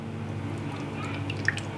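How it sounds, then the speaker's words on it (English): Sauce poured over chicken for a spicy home-cooked meal, giving a soft wet pour with a few small drips and squishes near the end, fairly quiet and with no talking. "You then want to get your sauce and pour it all over"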